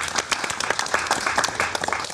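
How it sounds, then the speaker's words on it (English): An audience at a cultural symposium in Weimar breaks into a big round of applause, dense clapping filling the room at steady loudness with no voices standing out. "give a big round of applause for that"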